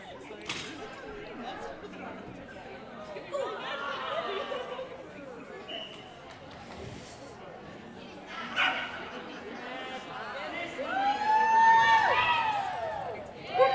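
A dog barks and yips during an agility run at AKC team tryouts, the barks ringing out over crowd chatter and an announcer's running commentary in a large, noisy venue.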